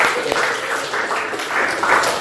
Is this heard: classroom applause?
yes